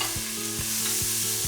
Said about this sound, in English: So give the onion a little stir,